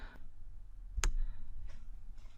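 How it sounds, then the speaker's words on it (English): A single sharp computer mouse click sounds once, faint against quiet room hiss, while working in a code editor on a Mac. "double clicking a file will open the file here in the editor"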